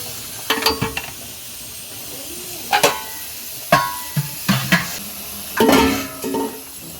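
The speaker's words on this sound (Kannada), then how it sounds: "ಸ್ವಲ್ಪ ನೀರು ಹಾಕ್ತೀನಿ." Sharp hissing sizzles burst out in several short spurts as water hits hot chicken masala, against a quiet background, with clinks of a utensil stirring in a hot pan.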